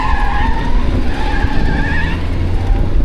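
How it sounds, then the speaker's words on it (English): A car does a burnout nearby, its tyres screeching in a long wavering squeal over a rough, rumbling engine, loud and continuous for a few seconds. "Someone's doing the burner."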